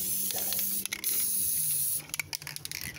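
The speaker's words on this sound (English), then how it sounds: "just do a little spray, you know, just cover it up like right here" An aerosol can of white almond touch-up paint sprays onto a reconditioned GE dryer in a long close hiss, stops briefly, resumes, then ends with rattling handling noises.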